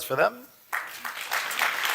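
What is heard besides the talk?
audience applause for the speakers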